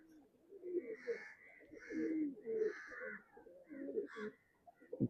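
Soft, throaty cooing of black-eyed pigeons, a few rolling coos repeated up close in a quiet setting.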